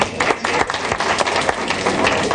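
A studio audience on a comedy talk show claps in applause, a short burst of dense hand claps with no talk.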